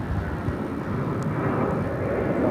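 An airliner takes off at Phoenix airport as a steady, broad engine roar that holds loud and even throughout, with no voices over it.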